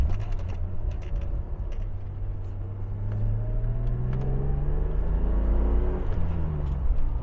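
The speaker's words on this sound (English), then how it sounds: "Such a smooth power delivery, such a balanced engine" A 1986 BMW 635CSi E24 engine revs up steadily on a back road, its low drone rising in pitch as it accelerates, with road rumble underneath and no talking.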